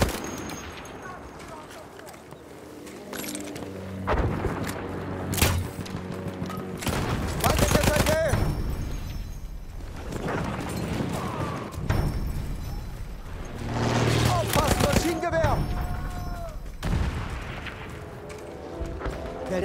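A Lewis machine gun blazes away in a World War I shooter on the Rupture map, with repeated loud bursts, explosions and battlefield clutter, and voices talking over the fighting.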